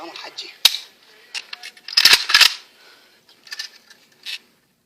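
Gunfire from a gun in a comedic Iraqi army setting: one sharp close crack, then a cluster of loud shots about a second later, followed by a few fainter pops, with no talking.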